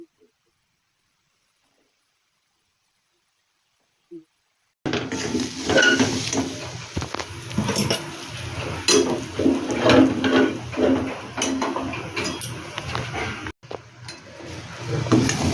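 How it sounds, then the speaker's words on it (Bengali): Lentil paste for dhoka being stirred in a pan, scraping and clinking of the spatula against metal after about five seconds of near silence, steady and close with a faint sizzle underneath. "এই যে ধোকার ডালটাকে একটু নাড়াচাড়া করে নিচ্ছি এটাকে"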